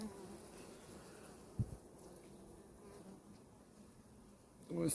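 Honeybees buzz softly and continuously at close range at a hive, with a brief knock and a louder rustle near the end.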